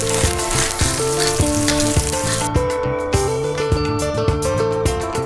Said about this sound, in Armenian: Համեմատ ձիթայուղի մեջ տապակում եմ սերկեֆիլը։